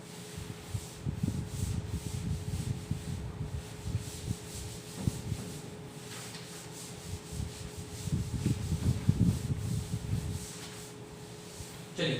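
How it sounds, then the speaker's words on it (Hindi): A duster rubbing chalk writing off a classroom board, a steady close scrubbing and rubbing that rises and falls in strokes for about twelve seconds, with no talk. "चलिए इसको अब रब कर देते हैं अपन"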